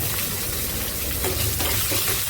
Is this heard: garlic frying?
yes